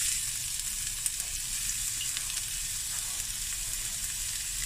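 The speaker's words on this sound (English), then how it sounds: "here we've got a couple of tablespoons of olive oil. And to this, I'm going to add half a onion," Half a chopped onion frying in a couple of tablespoons of olive oil, a steady close sizzle and crackle with no talking.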